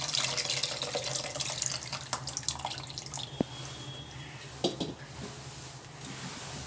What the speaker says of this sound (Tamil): புளி தண்ணி ஊற்றியாச்சு.